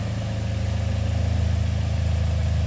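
A Ford Fiesta ST engine with a rattly top end idles steadily nearby, a loud, even low throb with a faint pulsing rhythm and no voices.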